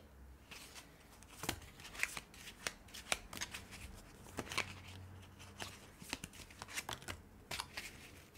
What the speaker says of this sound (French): je vais vous tirer 2 cartes pour cette fin de mois